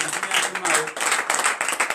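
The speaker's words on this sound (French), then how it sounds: "Oui, donnez l'acclamation à notre Seigneur Jésus" A church congregation at a Beninese morning prayer service applauds for Jesus, a dense, continuous wash of clapping with voices speaking over it.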